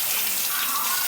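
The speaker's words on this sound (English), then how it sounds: "I'll let this nasty dishwater off." Dirty dishwater drains out of a kitchen sink in a close, continuous gushing and gurgling rush that holds steady for about a second.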